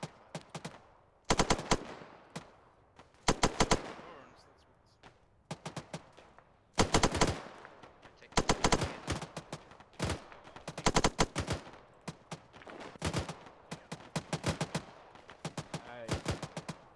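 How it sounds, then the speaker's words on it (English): Repeated machine gun bursts in a military simulation game, loud and close, firing in short clusters with brief gaps between them across the whole stretch. "I just wanted to fire an extra burst at them."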